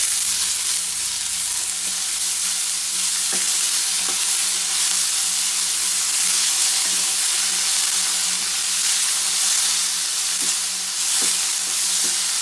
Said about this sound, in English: I'm adding the tomatoes. And with that goes half teaspoon of salt.